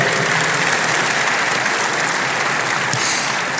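Church congregation gathered for a dedication service claps in loud, sustained applause, a dense even patter filling the hall with no talking.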